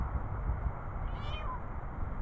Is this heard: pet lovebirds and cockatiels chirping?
no